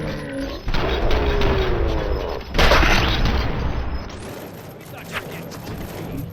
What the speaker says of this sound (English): You kept shooting, but they're all dead.